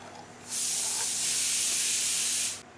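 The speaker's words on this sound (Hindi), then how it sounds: "देखिए अब तवे के ऊपर मैं रिफाइंड डाल रही हूँ" Refined oil hits a hot tawa and bursts into a loud, steady sizzle that starts abruptly, holds for about two seconds, then cuts off, with a faint low hum underneath.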